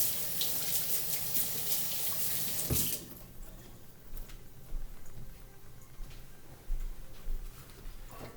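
Tap water runs steadily into a sink as batter is rinsed off hands while making banana bread, a strong broadband rush that cuts off abruptly partway through, leaving quiet kitchen background with faint ticks.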